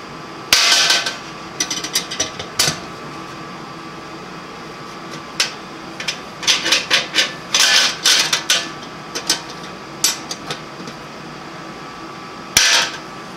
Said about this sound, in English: I'm going to place the top on the vacuum chamber and then clamp it down